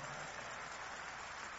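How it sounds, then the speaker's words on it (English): A steady, dense patter of clapping rises from a large audience at a church crusade in New York, continuous and even throughout. "And those of you who are clapping, keep clapping."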